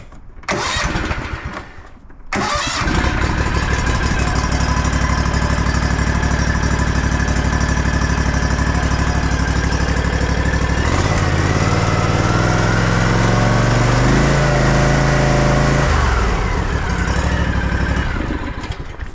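Engines on a 2022 Ariens Ikon XD 52-inch riding mower start up after a brief cranking burst and run loud and close, holding a steady idle with a shift in engine tone partway through; no talking.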